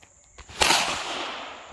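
A single sharp gunshot cracks out at outdoor shooting practice, clearly heard at moderate distance, followed by a short echoing tail and no talk.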